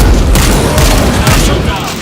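Dense gunfire in the World War Z video game, loud overlapping bursts and booms blending into a continuous barrage, with a voice speaking over the shooting.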